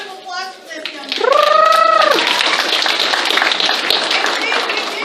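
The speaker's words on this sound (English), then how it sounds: "I want a round of applause for this young man" Crowd applause swells into steady, dense clapping from a live audience at a demo event, honoring a young man, running loud and sustained after a brief opening with a voice and cheering over it.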